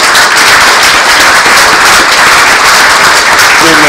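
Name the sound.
audience applause for the executive secretary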